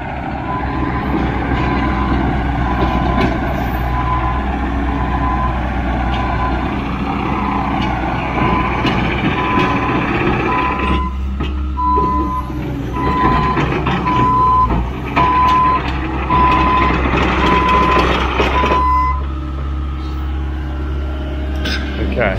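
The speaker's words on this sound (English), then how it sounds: "Okay, here comes the dump truck." A dump truck rumbles in at a construction site where steps and bushes are being ripped out, its reversing beeper pulsing steadily for several seconds over heavy engine noise while people talk nearby.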